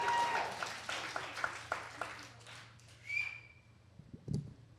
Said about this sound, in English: Y'all keep on clapping, ain't no music.